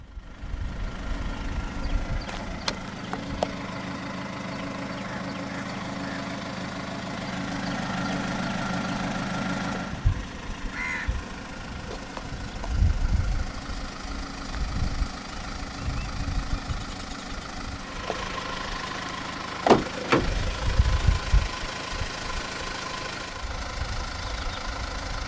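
A 2019 Hyundai Tucson 2.0 CRDi diesel engine idles after start-up with a steady low clattering rumble, close and continuous, with occasional clicks and bumps.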